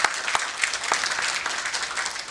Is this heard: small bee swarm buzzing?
no